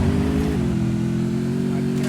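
A game vehicle's engine drones loudly and steadily in Free Fire, holding a harmonic engine tone that steps slightly in pitch as it drives, close and continuous throughout with no speech.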